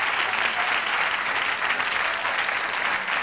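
A television studio audience claps steadily for a game-show contestant, a thick, continuous burst of applause with no talk over it.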